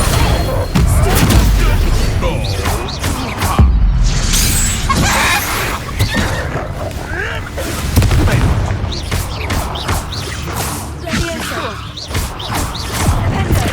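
Confringo fire-blast spells in Hogwarts Legacy, with repeated booming explosions and crackling impacts layered over dense combat noise and game music, loud and continuous.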